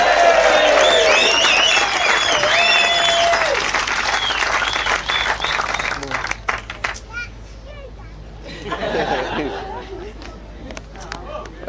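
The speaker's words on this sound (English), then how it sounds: "Would you please put your hands together, ladies and gentlemen, make some noise for the groom!" Wedding guests clap and cheer loudly for the groom at the reception speeches, dense applause with chatter that thins out midway and swells again briefly before fading.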